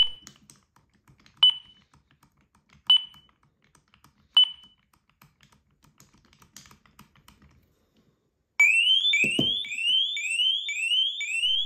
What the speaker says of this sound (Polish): Jeśli blokada wyczuje ruch, parokrotnie ostrzega o tym głośnymi piknięciami